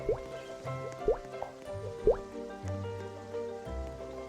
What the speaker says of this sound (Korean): 아, 폭포다.